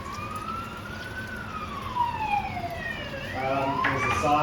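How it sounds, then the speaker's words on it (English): A wailing fire brigade siren rising and falling, moderately distant, growing louder toward the end amid traffic noise. "There's a siren going off."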